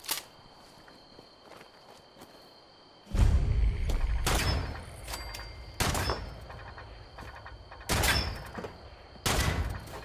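A shotgun in Fallout 76 fires several loud, booming blasts at irregular intervals over a faint ambient hum, each shot followed by a brief decaying tail.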